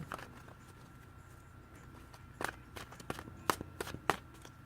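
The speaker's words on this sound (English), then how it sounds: "Just want to make sure I shuffle really good." Tarot cards shuffled by hand, a series of faint, sharp riffling snaps and taps in quick irregular bursts against a quiet room.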